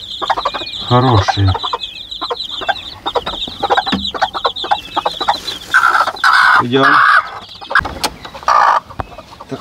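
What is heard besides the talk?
peafowl chicks whistling, sounding like chickens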